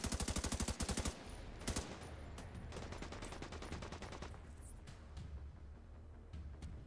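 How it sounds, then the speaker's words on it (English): A minigun fires in The Division 2 video game, a rapid, evenly spaced burst up close that breaks off, then sustained chattering fire with scattered gunshots and a whooshing effect, fairly faint overall. "They have a minigun"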